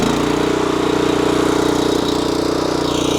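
An ATV-mounted Rammy brush cutter engine runs at a steady, loud idle close by, its even mechanical pulsing continuous without talk.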